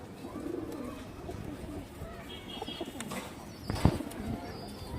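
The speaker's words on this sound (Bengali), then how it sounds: "একটা হারামি লাইনের সাপচিলা মাদি কবুতর আছে, যে দেখেন দর্শক খুব সুন্দর কবুতর" A Sapchila female pigeon coos softly in a loft, faint low murmurs amid quiet background noise, with a brief flutter of wings.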